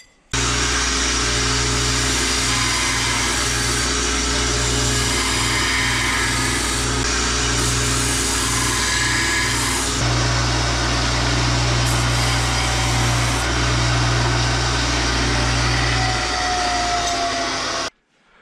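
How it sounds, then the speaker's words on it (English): A power sander runs continuously for about seventeen seconds to smooth the edges of small cut pieces, giving a loud steady whine that shifts pitch partway through as the load changes, then stops abruptly. "I'm just going to take this to my sander and just clean up the edges"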